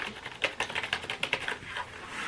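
Keys clacking on a Razer gaming keyboard, a quick irregular run of crisp close taps at moderate loudness, heard alone without speech.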